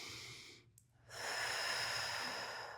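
A slow, audible exhale during a Pilates breathing exercise follows a brief pause; the breath hisses softly and steadily for over a second at close range.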